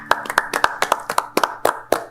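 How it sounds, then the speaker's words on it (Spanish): A church congregation claps in a rhythmic, evenly paced beat, with about a dozen crisp, close claps over two seconds and a faint tonal background underneath. "Un aplauso a Jesucristo el Señor."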